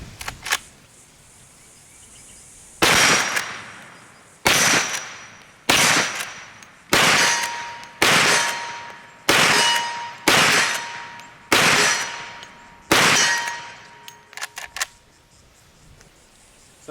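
Rapid gunshots from a pistol fitted with an Olight Baldr Pro weapon light, about nine loud, sharp reports spaced roughly a second or more apart, each ringing out briefly, with a few small clicks near the start and end.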